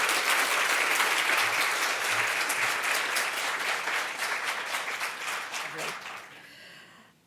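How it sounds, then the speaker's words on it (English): A conference audience bursts into a steady, dense round of applause for a presenter, holding loud and even for several seconds before tapering off near the end. "Can we please give Carissa a huge round of applause"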